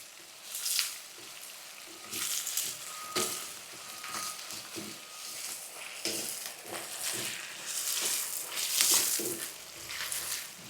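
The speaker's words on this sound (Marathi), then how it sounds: "खडे मसाले परतवले आणि कांदा टाकला की जरा आपल्याला गॅस फास्ट करायचा आहे आणि कांदा आपल्याला चांगला असा नरम करून घ्यायचा आहे" Onion fries with whole spices over high heat in a pan for paneer biryani, a steady close sizzle broken by occasional stirring scrapes and louder crackling swells.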